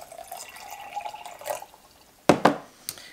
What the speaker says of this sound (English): I'm going to add just a little bit of water in here